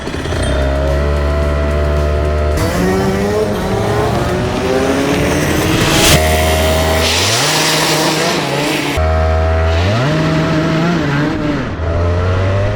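Racing kart engines on a cold track scream loudly and close, revving high, dropping and climbing again through repeated gear-like pitch sweeps, with several abrupt changes as karts pass.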